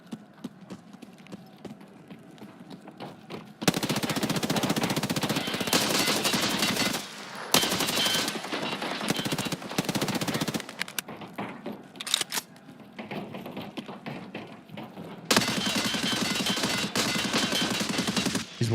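Long bursts of M60 machine gun fire shooting through walls in Escape from Tarkov, loud sustained rapid volleys broken by short pauses, close and dominant.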